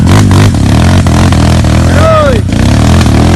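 A Kawasaki KLX or Honda CRF dirt bike on a challenging trail revs loud and close in short throttle bursts, its engine note climbing and dropping, with people's voices mixed in.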